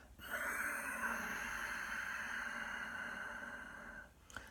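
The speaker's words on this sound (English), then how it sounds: "that soft, silky, sighing, whistling Ujjayi breath from the back of the throat" A long, steady Ujjayi yoga breath drawn from the back of the throat, soft and raspy with a faint whistling hiss, close and sustained for several seconds.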